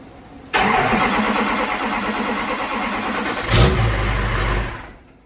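A Duramax diesel engine in a 1000-horsepower build cranks and fires with a sudden loud roar, runs rough and steady for a few seconds, surges in a sharp rev, then winds down and fades.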